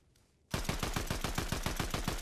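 Fortnite gunfire bursts in after a quiet moment, a loud sustained stream of rapid automatic shots firing in an even, fast rhythm close by.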